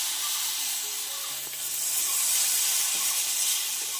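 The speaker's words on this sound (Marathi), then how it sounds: "आता हा बिड्याचा तवा आहे आपला त्याच्यावर तेल सोडलं आहे हे पसरवून घ्यायचे" Batter spread across an oiled iron griddle gives off a steady, fairly loud broadband sizzle that holds for the full few seconds, with faint low clinks and no voices.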